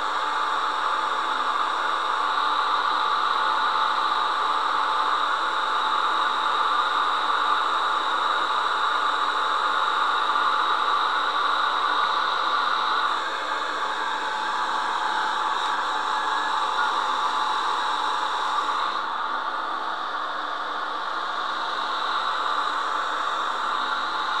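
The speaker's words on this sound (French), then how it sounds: "tu te sèches les cheveux avec un sèche-figurine" A hair dryer used to dry painted miniature figurines blows in a steady, loud broadband whoosh for the whole stretch, with slight shifts in tone partway through and no one talking.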